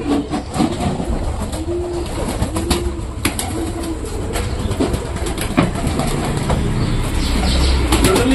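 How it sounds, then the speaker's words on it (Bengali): Pigeons released inside a room, with soft cooing and bursts of wing flapping close by, several birds shuffling and fluttering over a steady background noise. "এইবার আমি ঘরের ভেতরে পায়রাগুলোকে ছেড়ে দিই।"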